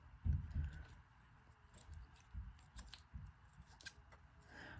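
Scissors trimming leather for a handmade junk journal, a series of close, crisp snips and blade clicks at an uneven pace, quiet and with no talking.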